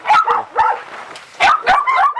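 Several dogs yip and bark in short bursts, some whimpering between them, close by and fairly loud, with no talk over them.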